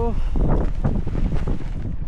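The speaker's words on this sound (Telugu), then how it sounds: "ఈ గాలి ఇట్లా కొడుతుంది." Strong storm wind buffets the microphone with low rumbling gusts in a desert at night, and a voice is faintly mixed in.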